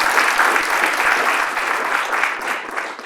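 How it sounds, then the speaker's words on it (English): A room of people at a mock trial gives a steady round of applause for program mentors, dense even clapping sustained from start to finish. "Please give them a round of applause."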